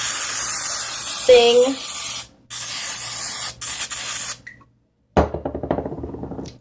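An olive oil sprayer misting a madeleine pan, several bursts of close, loud hissing spray separated by brief pauses, with a person speaking afterward.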